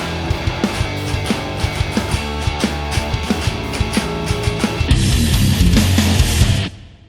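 Steven Slate drums plugin plays a fast, driving punk beat, with steady kick and snare hits and hi-hats, then a loud crash-cymbal wash that cuts off abruptly at the end.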